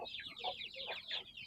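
A giant chicken in a yard gives a short run of soft clucks, faint and somewhat distant, lasting little more than a second.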